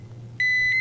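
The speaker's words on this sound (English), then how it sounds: "Low battery alarms warn when battery voltage is too low for safe operation." A Honeywell MultiPro gas detector gives its low battery alarm: a sudden sharp electronic beep that starts abruptly and holds steady, loud and close, over a low background hum.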